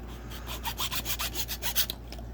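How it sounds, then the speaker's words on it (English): Hand saw cutting fully through a part held in a miter box during a 1951 Henry J rebuild, a run of about a dozen quick, even rasping strokes, close and fairly quiet over a steady low hum. "I'm going to do a complete cut on this all the way through while it's in the miter box."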